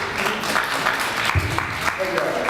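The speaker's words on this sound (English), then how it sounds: "please refrain from applauding the speakers" An audience at a Bay City town hall meeting claps for a speaker, a brief dense burst of scattered clapping with talk over it.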